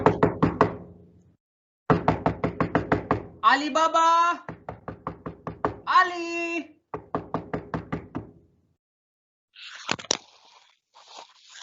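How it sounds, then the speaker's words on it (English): Heavy knocking pounds on a wooden door in a stage play, coming in rapid, loud bursts separated by pauses, while someone shouts in between the rounds of blows. "Kasim starts to knock heavily on the door"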